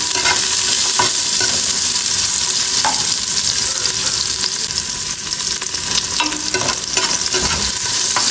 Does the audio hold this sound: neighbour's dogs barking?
no